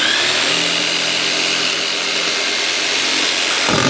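A jigsaw with a very short blade cuts through wood, a loud, steady, rapid buzzing rasp close by that stops abruptly right at the end.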